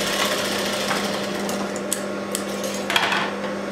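A sewing machine runs steadily while stitching the corner of a blouse, a continuous mechanical whir with a droning hum and a few small clicks, close and alone.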